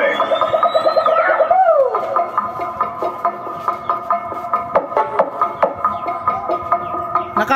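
Two horn speakers (trumpa) driven by a Joson Mars Max amplifier with its built-in equalizer play loud, distorted music with a pulsing beat and a falling synth sweep near the start.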